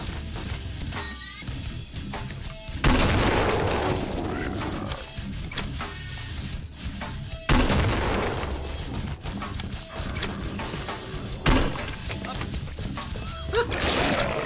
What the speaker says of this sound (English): I've got to switch weapons to this and shoot him in the head so that he will die easily with the M32.